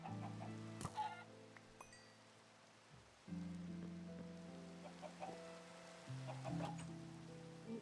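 Clucking chickens inside a video game, with steady layered tones of game music running underneath and sharp bursts of squawking scattered through.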